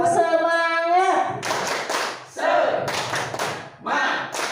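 A classroom group performs the rhythmic 'tepuk semangat' clap: a voice calls out first, then several loud bursts of clustered hand claps follow in a patterned beat.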